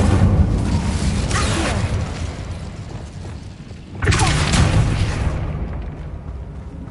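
Incendio fire spell cast in the Hogwarts Legacy video game: two loud whooshing, crackling bursts of magical fire, one at the start and one after four seconds, each fading away.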